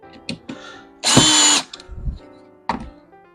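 A power drill whirs in a half-second burst to drive a screw into a Jiffy Pop popcorn campfire handle, preceded and followed by a few light clicks and taps of handling.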